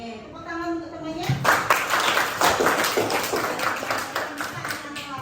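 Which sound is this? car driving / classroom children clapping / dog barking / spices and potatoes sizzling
classroom children clapping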